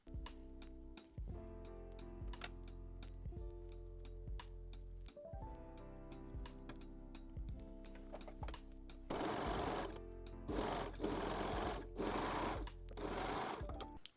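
A sewing machine stitches the back crotch seam of a lingerie panty, running in short bursts with ticks and stops between, then longer loud steady runs near the end, with no talking.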